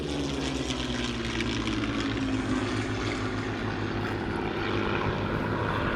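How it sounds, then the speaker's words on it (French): A propeller fighter aircraft engine drones loud and steady throughout, with a rising harmonic tone suggesting the plane passing close by, no voices present. "Mais Dieu que ces avions étaient beaux, et puis écoute le son."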